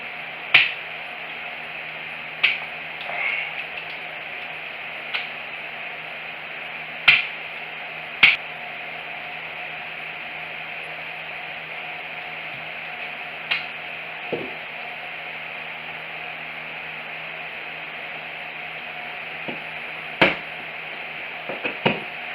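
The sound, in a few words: putting pin back into Zebco 404 fishing reel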